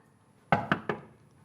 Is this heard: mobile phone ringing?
no